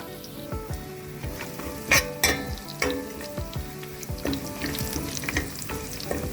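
Whole green and black cardamom, cinnamon, cumin, cloves and black peppercorns frying in hot oil for chicken yakhni pulao, a steady close sizzle with occasional stirring clatters and pops.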